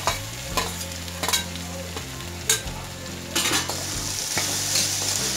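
Tomatoes frying with potatoes, beans and carrots in a pan for brown rice khichdi, giving a steady close sizzle broken by repeated scraping stirs and light utensil clinks.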